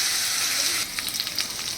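Small new potatoes go into hot oil tempered with cumin and nigella seeds. A loud sizzle dips briefly, then crackles and pops in quick bursts.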